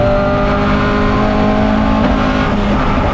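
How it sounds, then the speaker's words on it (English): A Chevrolet racing pickup truck's engine drones loud and steady on track, its note wavering and stumbling with misfires during the closing laps of an American race. "the car's starting to miss now"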